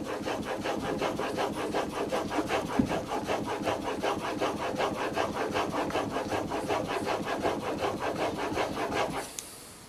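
Steady back-and-forth swipes of a No. 078 plane blade honed on a stone, a continuous rhythmic rubbing scrape close up, stopping just before the end.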